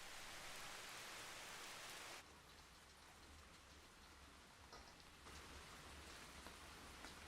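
Steady rain hisses throughout in the video game Season: A Letter to the Future, a dense, even wash that drops slightly softer after a couple of seconds, with a low rumble underneath and no talking.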